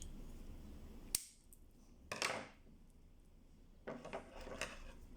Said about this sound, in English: coming in with your pruners or with your scissors